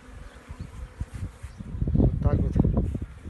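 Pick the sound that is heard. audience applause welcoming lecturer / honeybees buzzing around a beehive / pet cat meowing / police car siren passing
honeybees buzzing around a beehive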